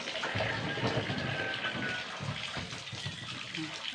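Tap water runs steadily while dishes are washed after a meal, a continuous close splashing rush with faint clinks underneath.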